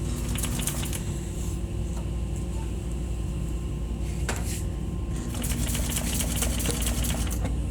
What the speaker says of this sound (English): you want to backstitch this so it doesn't unravel right there